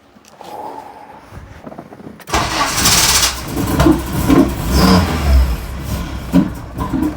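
A car engine cranks briefly, then catches and fires up after fuel pump priming, settling into a loud, rough idle with a few surges of revving, recorded close with no talk.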